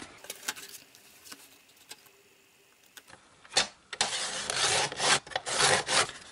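Mini-album cover material being cut by hand, with scattered soft scraping strokes at first, then a louder burst of rough rasping cuts close by in the second half.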